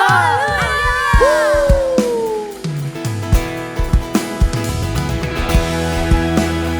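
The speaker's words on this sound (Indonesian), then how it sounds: "Kau yang bersuka cita kasih tepuk tangan buat Tuhan Yesus, sorakan haleluya." A church congregation at an online Indonesian worship service cheers and shouts hallelujah with rising whoops and yells, a loud jubilant crowd roar with overlapping voices and scattered percussive hits.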